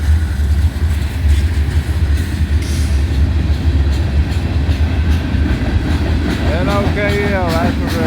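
Loaded freight train cars carrying plastic roll past steadily on the rails with a loud, continuous low rumble and rhythmic clatter. A squealing whine rises near the end.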